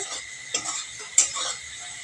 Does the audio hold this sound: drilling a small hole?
no